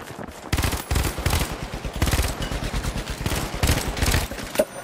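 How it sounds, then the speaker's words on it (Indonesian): Rapid automatic gunfire aimed at a tree in the video game The Finals, several tight bursts of loud cracking shots with short gaps between them. "Nembak pohon."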